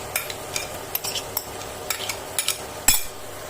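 A spoon scrapes and clinks in a pan as paneer, capsicum, onion and yogurt are mixed together, with a soft sizzle beneath and about a dozen irregular close taps and scrapes, one sharper knock near the end.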